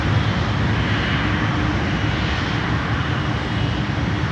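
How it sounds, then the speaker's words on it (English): A China Airlines Boeing 777 idles on the taxiway, its jet engines giving off a steady, loud, broadband roar that holds level throughout with no voices. "China Airlines 777"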